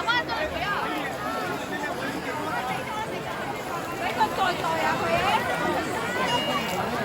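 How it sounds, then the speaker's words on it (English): A dense crowd at a large Lunar New Year flower market in China, a steady babble of many voices and chatter nearby with footsteps and occasional louder calls. "if you're gonna buy flowers here, good luck to your flowers like surviving this crowd"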